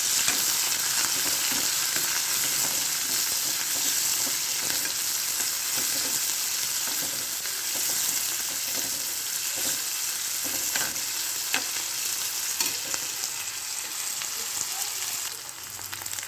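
Green chillies and onion sizzle and crackle steadily in a hot pan for an Uttar Karnataka mookani kalin palya, with occasional stirring scrapes, continuous and fairly close throughout.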